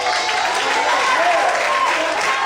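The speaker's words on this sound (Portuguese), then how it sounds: "aplauda ao Senhor" A church congregation applauds, a loud, dense and sustained roar of clapping with crowd noise and voices mixed in.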